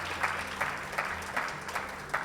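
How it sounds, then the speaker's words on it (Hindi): An audience applauds, heard faint and at a distance, with the claps swelling in a fairly regular pulsing rhythm over a low background hum. "तालियां बजाओ यार।"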